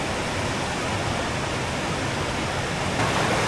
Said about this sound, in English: We got those massive rapids.